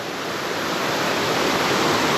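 Waterfall cascading over rocks into a shallow, stony pool on a hiking trail, a steady loud broadband rush of falling water filling the whole clip without pause or voices.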